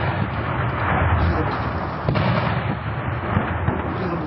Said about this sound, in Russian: И вот чем ближе к этой реке, тем громче слышны звуки выстрелов.